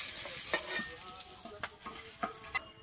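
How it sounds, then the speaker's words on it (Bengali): A fish head sizzles in hot oil while being turned, a soft close crackle broken by several short clinks and scrapes of a utensil, fairly quiet, with no voices. "আমি মাথাটা কিন্তু এরকম ভাবে উল্টে পাল্টে ভেজে নেব।"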